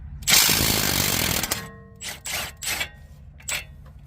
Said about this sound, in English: Alright, so I had to switch to a bigger impact with a deep well socket.